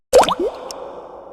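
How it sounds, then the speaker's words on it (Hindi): A single close plop of a water drop, as from a leaking roof, a brief wet drip with a short resonant ring and a faint tick after it, alone without talk. "छत टपक रही है, टप"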